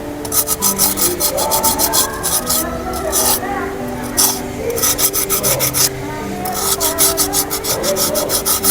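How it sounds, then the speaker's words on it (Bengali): A handmade cement and calcium carbonate pot is rubbed by hand with a cut piece to smooth its finish. The result is loud, close, rhythmic scraping strokes in quick bursts with brief pauses, and a voice talks underneath. "এটাকে নির্দিষ্ট একটা টুকরা কেটে যে জায়গাগুলো ঘষে ঘষে ফিনিশিংটা নিয়ে আসতে হবে"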